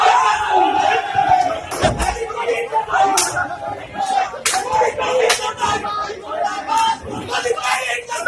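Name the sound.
crowd protesting while burning an effigy of Modi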